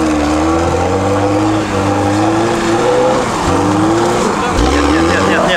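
A car with a 2-litre engine races hard over hilly terrain, its engine roaring loud and close while the tires squeal and skid repeatedly; voices talk over the noise.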